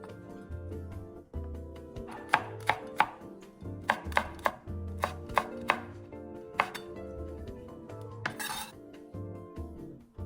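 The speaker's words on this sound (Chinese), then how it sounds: "红辣椒1条，切开去籽后，一样切丝备用。" A knife strikes a cutting board in sharp, evenly spaced chops while slicing a seeded red chili into thin strips, close and crisp with a light clink of kitchenware and no voices.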